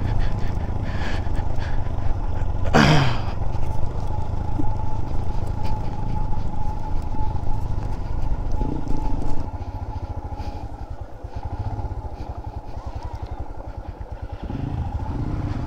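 Steady motorcycle engine drone carries through a long road ride, loud and continuous with wind rumble, a brief sharp chirp or horn near the start, and the tone shifting slightly partway through.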